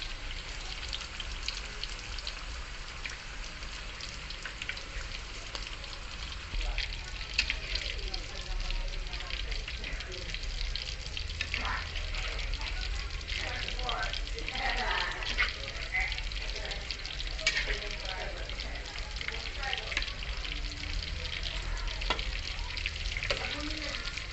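A Filipino vegetable omelette (tortang gulay) fries in a pan with a dense, continuous crackling sizzle that stays steady and close for the whole stretch, like light rain on a surface.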